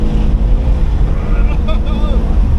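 A 2023 BMW M2 G87 engine at full throttle on a race track, a loud continuous roar heard from inside the car with heavy wind buffeting and a rising tone, under brief talk.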